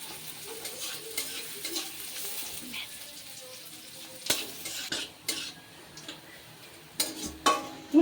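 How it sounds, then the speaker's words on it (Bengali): Onions frying lightly in a pan for a Bengali jute-leaf dish, with a steady soft sizzle broken by a few sharp scrapes and clinks of a stirring utensil against the pan, close and moderately quiet. "পেঁয়াজটা একটু হালকা করে ভেজে নিচ্ছি।"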